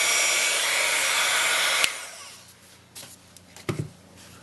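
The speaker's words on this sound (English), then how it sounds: "our next step after we embossed an iridescent ice is to turn on the heat tool" A heat tool blows hot air over iridescent ice embossing powder on a stamped card, a steady loud whoosh that cuts off abruptly partway through, leaving quiet handling clicks and taps.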